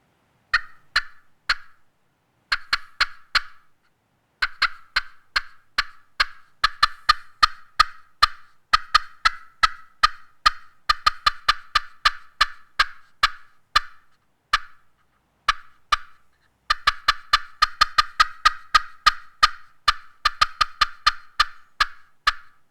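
Sharp, rapid yelps from a glass turkey call in irregular bursts, loud and close, mimicking a turkey's excited cutting.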